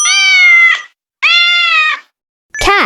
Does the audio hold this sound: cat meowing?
yes